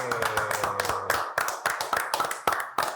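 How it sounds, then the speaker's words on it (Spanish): A small group in a podcast studio claps close by, with sharp, uneven handclaps overlapping for a few seconds of brief applause. "Fuerte el aplauso que se escuche."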